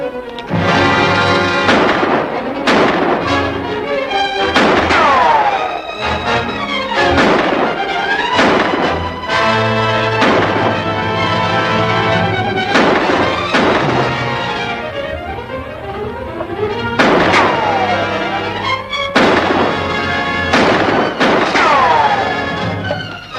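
Kegs of coal oil in a wagon blow up in a chain of loud, booming explosions with rumbling, crackling debris, repeating at irregular intervals over the whole stretch.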